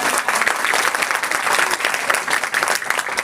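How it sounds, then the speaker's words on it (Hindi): A crowd claps hard at a Hindi kavi sammelan poetry gathering held by the Rupbas town municipality: loud, dense, continuous applause from many people that stays strong the whole time. "तालियां कमजोर हैं आपकी,"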